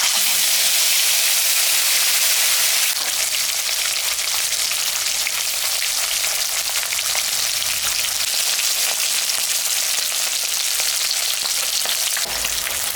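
Salted, turmeric-rubbed fish frying in hot mustard oil gives a loud, unbroken sizzle that swells sharply when the fish goes in and stays steady, crackling close by, with no talking.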